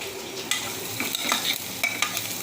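Onions frying in oil for a chicken gravy give a steady close sizzle, with scraping stirs and light clinks of a spatula against the pan throughout; no voices.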